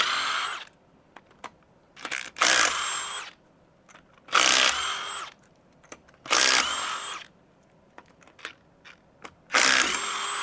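Power tools at work in a home garage, taking the wheels off a car: a series of loud, short bursts of whirring impact and drilling noise, each lasting under a second, separated by quiet gaps and small clanks, close by.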